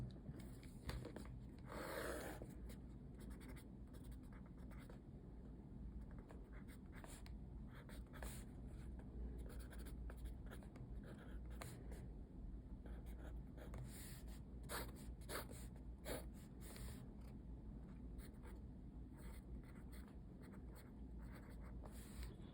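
Pen or pencil writing numbers by hand on paper, heard close up as soft, quiet scratchy strokes in short irregular bursts throughout, with no talking.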